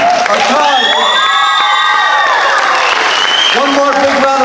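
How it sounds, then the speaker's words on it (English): Audience at a high school talent show applauds and cheers for the performers, a steady loud wash of clapping with shouts and voices mixed in throughout. "One more big round of applause for all of our performers"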